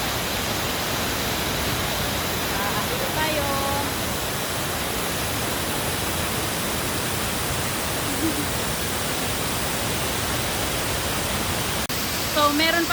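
Tinuy-an Falls, a very large waterfall in Bislig, Surigao del Sur, pours as a steady, dense roar of broadband water noise that holds constant and close throughout, with faint voices briefly audible.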